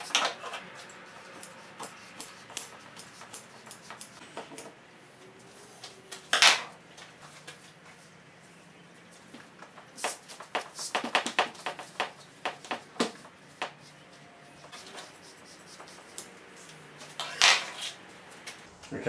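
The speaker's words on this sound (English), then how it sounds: "Is it my imagination or are these Stanley knife blades getting shittier? I mean, that's a brand new blade. It's only 6mm foam." A brand-new Stanley knife blade cuts through 6mm foam during a Ford ZF Fairlane restoration, making close, intermittent scraping and rasping slices in uneven bursts separated by quieter pauses.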